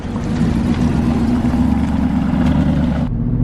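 An Aston Martin engine runs steadily after a DIY repair, with a loud, close, even idle and a constant low rumble that drops suddenly in its upper range near the end.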